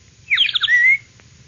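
A wooden bird-call whistle imitates a whippoorwill, giving one short, bright, warbling whistled phrase lasting about half a second, close and clear against quiet background hiss.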